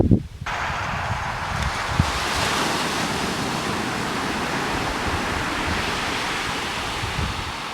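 Small Atlantic Ocean waves wash steadily at low tide, a continuous broad rush of surf with wind buffeting the microphone throughout.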